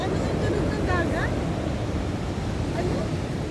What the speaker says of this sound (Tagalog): Galit na galit yung alon.